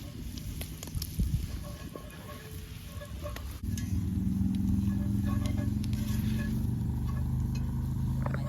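Flour stirred into gravy over a campfire, cooking in a pan; a steady sizzle and scraping stir that grows louder and denser partway through, with faint talk at times.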